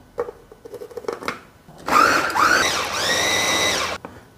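A blender whirs loudly for a couple of seconds, blending tapioca flour and water, its motor pitch rising and settling, after a few soft clicks and knocks.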